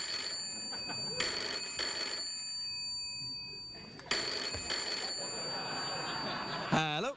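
A telephone rings on a late-night talk show, with repeated bursts of ringing over a noisy studio background and a warbling tone near the end.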